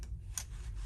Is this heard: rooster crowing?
no